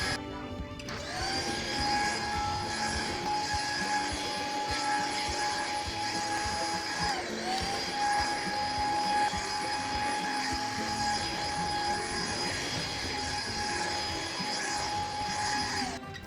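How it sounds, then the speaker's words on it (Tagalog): A vacuum cleaner runs steadily with a high whine and broad motor roar, briefly dipping in pitch once before resuming, loud and close throughout. "pakinggan nyo muna yung sounds ng vacuum"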